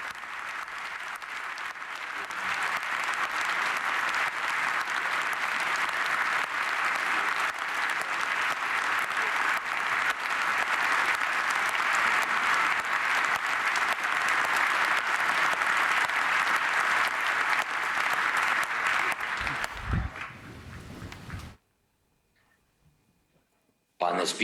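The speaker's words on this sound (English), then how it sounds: "A round of applause for President Zelensky" Sustained applause fills the packed House of Commons chamber for President Zelensky, a dense, even roar of clapping that holds for about twenty seconds before fading and cutting to near silence.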